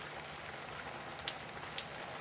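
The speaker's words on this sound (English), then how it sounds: "Greetings once again from inside my Coleman tent. It's raining outside." Rain falling on a Coleman tent, heard from inside as a steady, dense hiss of patter with a few sharper drops landing nearby, and no voices.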